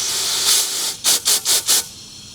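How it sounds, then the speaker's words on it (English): Air hissing out of a vintage Honda outboard motor during a flow check: one long steady hiss, a brief pause, then four short, even puffs in quick succession, close and moderately loud. "I hear air coming out the bottom, so that is clear."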